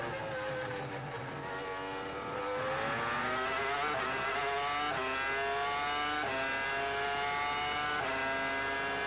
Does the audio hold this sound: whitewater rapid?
no